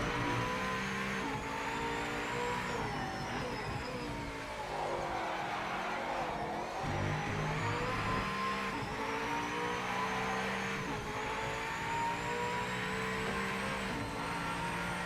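A race car engine in the Project Motor Racing video game roars steadily throughout, its pitch rising and falling through gear changes and revs, loud and alone without talk.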